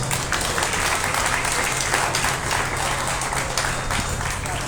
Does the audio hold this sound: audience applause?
yes